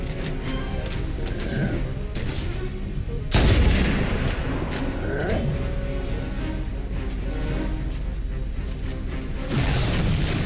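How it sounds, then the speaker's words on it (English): Gunfire in Halo: Combat Evolved during a sniper rifle fight, with one heavy booming shot near the middle standing out over a continuous wash of distant firing, explosions and battle noise. "If I can get a shot on their back with this sniper rifle, I'll kill them."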